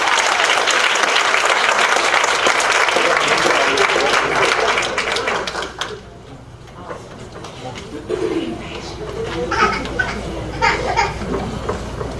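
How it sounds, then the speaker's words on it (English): Audience applause at a school district board meeting, a dense burst of clapping from a roomful of people that stops abruptly after about six seconds, followed by quieter murmuring and chatter from the crowd. "Give it up, round of applause."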